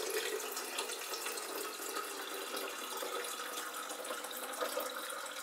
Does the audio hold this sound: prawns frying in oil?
no